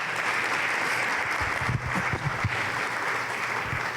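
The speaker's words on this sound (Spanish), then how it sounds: "Denle un fuerte aplauso a nuestro Dios en esta mañana por eso." A congregation at a Spanish-language morning church service claps in a moderate, sustained round of applause with a few louder hits mid-way, heard at a slight distance.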